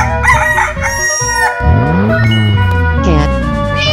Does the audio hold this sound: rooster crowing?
yes